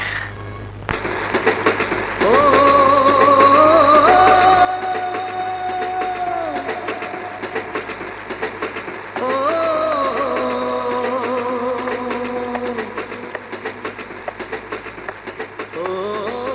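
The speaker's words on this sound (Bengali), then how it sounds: "সবসময় দেখি ট্রেনের শব্দ শুনেই কোথায় যেন হারিয়ে যাও?" A train passes with a loud, continuous rumbling clatter, broken by a sudden drop partway through and overlaid at times by wavering, whistle-like tones.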